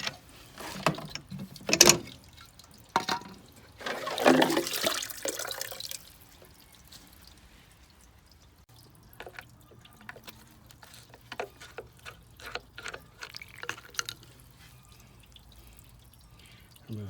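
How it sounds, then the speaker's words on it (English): Leftover water splashes and trickles in short bursts as drain plugs are removed from a swimming pool pump, followed by quieter dripping and intermittent clanking sounds nearby. "remove 2 drain plugs to let any leftover water within the pump drain out of there"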